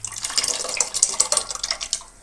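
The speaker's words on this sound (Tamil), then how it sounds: "இந்த பருப்பு தண்ணியை இதில் ஆட் பண்ணிடலாம்." Dal water poured into a simmering pot of drumstick-leaf curry, a steady close splashing and trickling of liquid lasting a couple of seconds with no voices.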